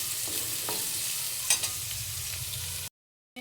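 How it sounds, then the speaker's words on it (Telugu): Onions sizzle steadily in a hot pan while being stirred, a dense close frying hiss with occasional scrapes, cutting off briefly near the end. "ఆనియన్స్ కూడా మంచి కలర్ వచ్చే వరకు వేగాలి."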